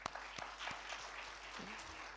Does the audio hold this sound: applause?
yes